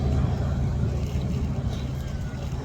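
A Douglas DC-3 with twin radial engines, Pratt & Whitney R1830 or Wright 1820, drones steadily at an air display, a low continuous throbbing engine rumble at moderate distance.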